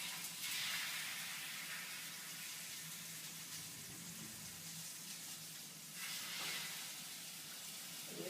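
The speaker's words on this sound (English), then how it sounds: "you can hear it! Sizzling." Faint, steady hiss of herb-marinated chicken sizzling in a pan, with slight swells in intensity, no voices.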